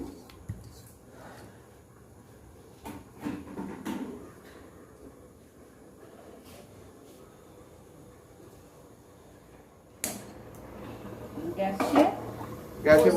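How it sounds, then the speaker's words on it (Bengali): A pot of marinated hilsa fish set onto a gas stove with its lid placed on, giving scattered metallic clanks and a final clatter, mostly faint under ongoing speech in a home kitchen. "গ্যাসে বসিয়ে ঢাকনা দিয়ে দেওয়া হলো"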